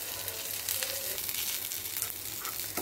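Butter corn with crushed pepper and salt frying in a pan, a steady hiss of sizzling throughout with light stirring scrapes, no talking.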